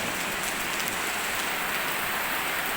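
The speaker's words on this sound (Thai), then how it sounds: "ฝนตกแล้ว" Steady rain falling outdoors, a dense even hiss of drops on surfaces that stays constant throughout, with no voices.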